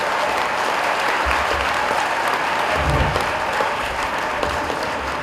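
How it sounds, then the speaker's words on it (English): A crowd applauds at an auspicious ceremonial lamp-lighting event, a loud, continuous wash of clapping from many hands with low rumbling handling noise underneath, sustained evenly throughout. "We request a round of applause as the lighting of the lamp is continuing."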